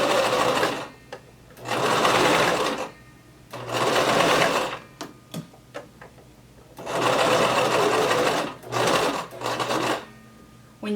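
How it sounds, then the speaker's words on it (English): A sewing machine stitching down a skirt seam runs in loud, rapid bursts of a few seconds each, with short pauses and clicks between them. "Begin sewing, backstitch, and you're going to sew all the way down until we get to the bottom"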